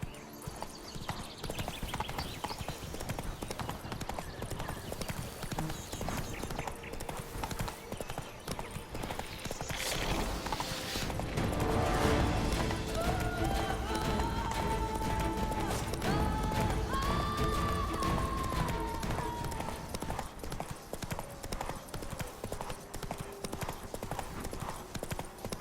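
Horse hooves clip-clop at a steady gallop in The Witcher 3 video game, a continuous rhythmic pounding under game music and ambience, with an occasional whinny.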